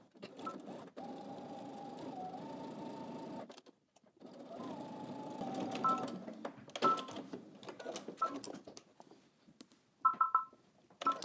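Sewing machine basting a long stitch along the edge of a pants pocket, running in two steady motor bursts separated by a short pause, then stopping and starting in brief choppy spurts with clicks, close by.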